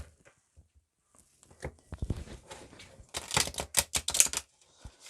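A deck of oracle cards being shuffled by hand: scattered soft taps first, then rapid dense riffling flutters in several quick bursts, close and fairly quiet.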